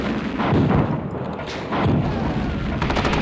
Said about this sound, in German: Artillerie ist bereit